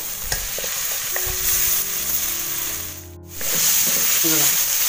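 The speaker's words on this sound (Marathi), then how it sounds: "चांगलंसं परतून घ्यायचं फास्ट गॅसवरती" Chicken being stir-fried over a high flame in a kadhai on a wood-fired stove, a steady close sizzle with scraping stirs and a brief dip near the end.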